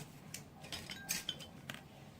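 Whole cardamom pods, cloves and cinnamon sticks dropped into a grinder jar for masala chai spice, giving a few faint scattered clinks and rattles against a quiet background, with no talking.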